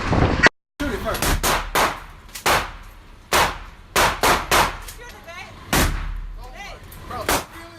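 AR-15 rifle shots ring out one at a time, loud and close, about ten sharp cracks at irregular intervals with brief pauses, while people talk between them.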